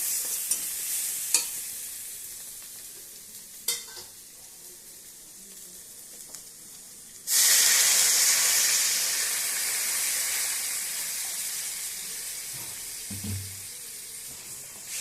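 A few light clinks and taps sound in a pan of small fish curry. Then water is poured into the hot pan and bursts into a loud, close hissing sizzle that slowly settles and fades.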